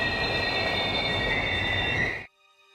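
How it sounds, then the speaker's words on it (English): Train wheels screech in a loud, sustained high-pitched squeal as the train brakes hard in the Steins;Gate Elite game scene, the steady grinding cutting off abruptly near the end. "Sparks fly as the train slams on its brakes."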